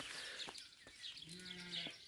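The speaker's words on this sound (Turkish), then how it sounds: "Kuş sesi, koyun sesi," A faint sheep bleat rises from a distant farmyard, a single drawn-out call amid chirping birds and steady outdoor hiss.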